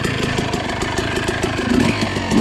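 A 2006 Suzuki RM250 two-stroke motocross engine idles loudly up close with a fast, steady burbling putter that rises slightly toward the end.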